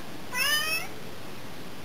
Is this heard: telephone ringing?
no